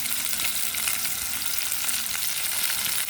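Onions frying in a pan for foxtail millet upma give a dense, continuous close sizzle, loud and unbroken, with no voice over it.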